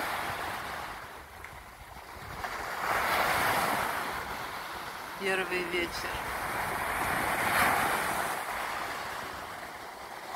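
Sea waves washing onto the shore on an evening at a quiet beach, broad surging roars that swell and fade under wind noise, with a brief spoken phrase partway through.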